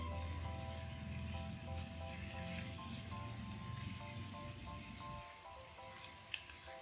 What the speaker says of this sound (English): I'm going to saute my onions until soft